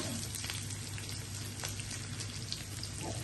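Raw banana pieces sizzle and crackle in hot oil, giving a steady, dense frying hiss with scattered pops that carries on without a break for the whole stretch, with no talking.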